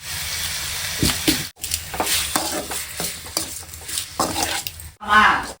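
Onions and tomatoes frying in a pan, a continuous sizzle with spoon scrapes and stirring clatters, two brief silent gaps, and a short rush of louder frying near the end.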